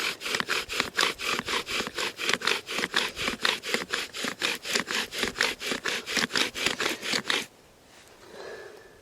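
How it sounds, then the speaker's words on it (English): A bow drill spindle rubs back and forth against wood in about thirty quick, evenly spaced rasping strokes, loud and close. The strokes stop abruptly and a faint low rustle follows. "I want to be careful with it hitting the bow too much too, as it's rubbing back and forth."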